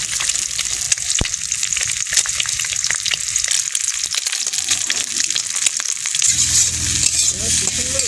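Desi chicken eggs sizzle and crackle in a hot kadai (wok), a steady frying hiss with occasional sharp pops and stirring.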